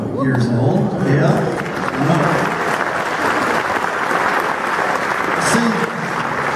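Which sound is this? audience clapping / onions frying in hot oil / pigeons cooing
audience clapping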